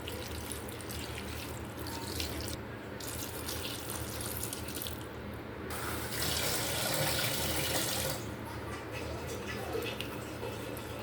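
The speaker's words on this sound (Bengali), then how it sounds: "তারপর একটু পানি দিয়ে নিচ্ছি।" Water running from a tap into a pan for a curry of small fish, a continuous close gush that swells louder near the end, with faint background noise and no clear speech.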